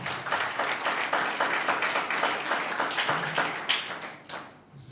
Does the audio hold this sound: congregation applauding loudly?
yes